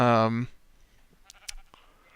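A Minecraft sheep gives one short bleat right at the start, followed by faint game clicks and quiet background sounds.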